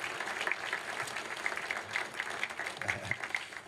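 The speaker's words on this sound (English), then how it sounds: "Please give them a round of applause." Sustained audience applause fills a room at an award dinner, a steady dense patter of many hands clapping, with a few voices faintly mixed in.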